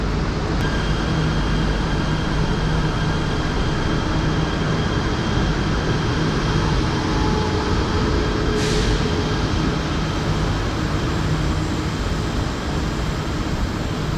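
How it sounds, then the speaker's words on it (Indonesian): A steady, loud rumble of a Malaysian express train at Kuala Lumpur station, with a constant low drone and faint hum of engines and ventilation, no voices. "yang kalian lihat ini adalah kereta api ekspres Malaysia ya"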